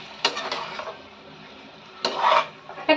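Potatoes mixed with turmeric are stir-fried in a pan over a low flame for a Konkan-style vegetable dish, with two or three bursts of a spoon scraping and clinking against the pan between quiet pauses.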